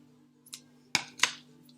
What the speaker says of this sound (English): otherwise I can trim it off carefully with some scissors